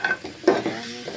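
A metal spatula stirs potatoes and rohu fish curry in a pan, giving short close scrapes and knocks with a faint sizzle underneath, one firmer scrape midway.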